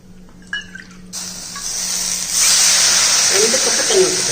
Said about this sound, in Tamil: இப்போ இதில் அளவு தண்ணி ஊற்றிக்கிறோம்